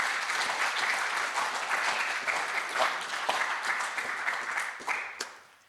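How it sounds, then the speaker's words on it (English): Listeners at a poetry prize awards ceremony give a sustained round of applause, thick and even before thinning out and fading in the last second. "I think we could give everybody a round of applause"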